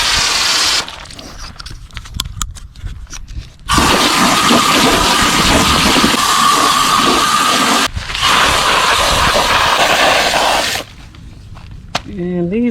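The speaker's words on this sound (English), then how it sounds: "I'm going to cook these today, so I'm going to go ahead and rinse them off." Tap water gushes loudly in two long bursts while harvested sweet potatoes are rinsed, with quieter gaps of handling before and after and some talking.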